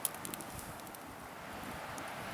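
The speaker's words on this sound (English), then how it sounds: "Kind of hard to talk because it's windy" Steady wind buffets the microphone outdoors while a fire is being started, a continuous low rumble with faint crackling hiss throughout and no voices.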